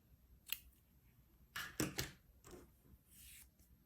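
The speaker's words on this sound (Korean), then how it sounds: "바늘에 걸려있는 실 쭉 빼서 잘라줍니다." Scissors snip crochet yarn while a heart keychain is being made: a few quiet, separate snips and rustles, close by and faint, with no voices.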